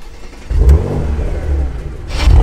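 A Porsche Macan S 3-litre 340-horsepower twin-turbo V6 turns over and catches, settling into a loud, deep idle with a brief rev, close by.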